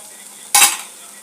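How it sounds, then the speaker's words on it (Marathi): A spoon stirs a pan of potato vegetable curry in one brief scraping burst, close and fairly loud, alone against faint background hiss. "त्याला मिक्स करूया चांगलं."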